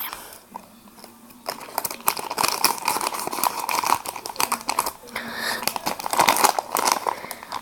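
A plastic sachet from a Littlest Pet Shop blind-bag opening is torn open and unwrapped, giving close, busy crinkling and rustling in irregular bursts that fill most of the few seconds, with no talk.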